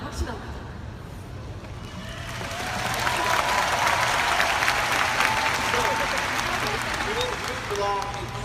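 An audience breaks into warm applause at a Nu Skin presentation, the clapping swelling after a couple of seconds into steady, dense crowd applause that continues to the end.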